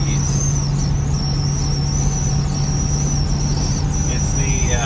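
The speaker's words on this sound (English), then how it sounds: "Vent windows are making some noise." A 1966 Ford Thunderbird's vent windows whistle at highway speed. A thin, steady high whistle runs without a break over a constant drone of road and engine noise.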